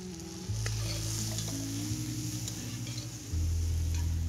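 Meat stirred in a hot frying pan, a steady loud sizzle with scraping stir strokes over a low hum, no voices.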